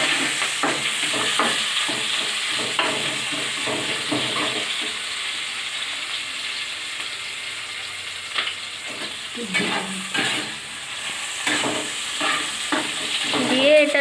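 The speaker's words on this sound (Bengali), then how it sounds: "দিয়ে ভালো করে নাড়াচাড়া করে নিলাম।" Red amaranth greens fry in a pan with onion under a steady, close sizzle. A spatula stirs and scrapes throughout, with no voices.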